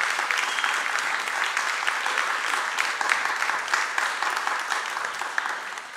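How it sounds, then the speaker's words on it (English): A church congregation gives a warm round of applause during a Sunday worship service, steady even clapping from many hands, moderately loud and sustained for the whole stretch without talk. "So let's give him a round of applause"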